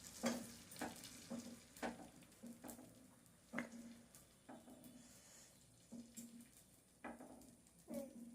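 Batter cooking on a hot pan while it is poured and flipped with a ladle, giving a faint sizzle broken by repeated light scraping and tapping strokes at a fairly steady pace.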